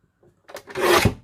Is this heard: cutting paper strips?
yes